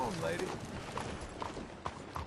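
Horse hooves clip-clopping in a steady gait while riding in Red Dead Redemption 2, faint and rhythmic beneath someone talking and background game ambience.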